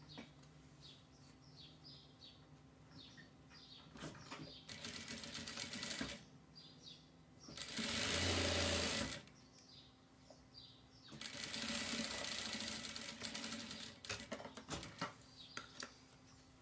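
Two bursts of a sewing machine stitching elastic onto a boy's overalls, each running a couple of seconds, with faint bird chirps in the background between them.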